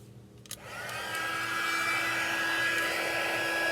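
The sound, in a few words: heat tool heat embossing silver embossing powder on a card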